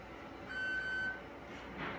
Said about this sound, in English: You hear the 2 beeps, that starts the recording.